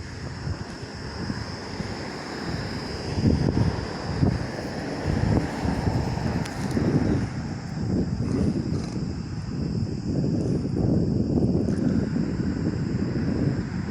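Gusty wind buffeting the microphone in uneven bursts over a steady outdoor rumble, with no voices.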